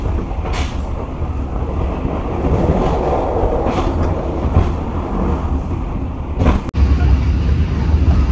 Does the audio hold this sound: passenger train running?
yes